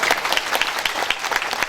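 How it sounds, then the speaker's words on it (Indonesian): Children applaud during a religious talk on dawn prayer, a dense patter of many small hands, moderately loud and continuous through the short stretch. "Tepuk tangan dong adik-adik"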